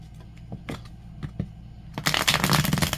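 Tarot cards tapped and squared a few times, then a dense, crisp riffle shuffle builds in the last second, close and fairly loud.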